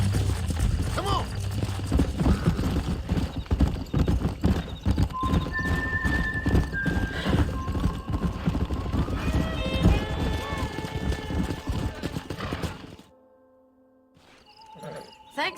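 In the Red Dead Redemption video game, horses' hooves clip-clop at a gallop and horses whinny, with game characters speaking over the action before it drops to near silence at the end.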